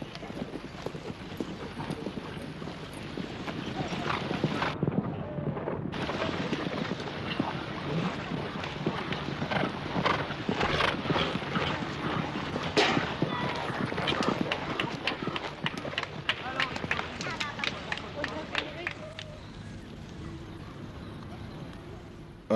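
Horses at a riding club in Burundi in 1969, with a continuous clatter of hooves and movement heard through wind buffeting the microphone; a narrator speaks throughout, and the activity thins out toward the end.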